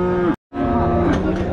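An HF heifer calf moos loudly and close by at the Akluj cattle market, two drawn-out tonal calls separated by a brief silent gap.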